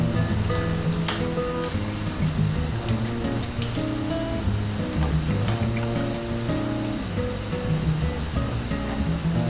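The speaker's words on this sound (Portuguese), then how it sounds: "Então já está na hora de nós tirarmos da água quente e ir direto para a água fria." Water sloshes and splashes continuously as spring vegetables for a pasta primavera are moved from hot water into cold water, a busy, fairly loud rushing texture with no talk.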